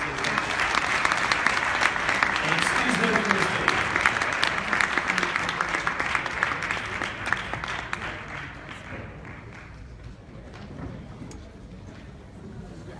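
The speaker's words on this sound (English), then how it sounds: "so let's give them a round of applause" Audience applause for candidates running for party chair at a DNC forum, sustained dense clapping that gradually thins and fades toward the end, with a voice speaking over it.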